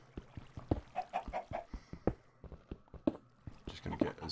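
Blocky Minecraft chicken clucking in short repeated bursts, mid-loud, mixed with game action noises and clicks throughout.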